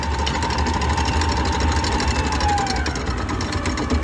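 A stand mixer whisks hot cooked sugar into a mousse base at reduced speed, giving a steady motor hum with a faint whine and constant whirring that holds level throughout, with no talk.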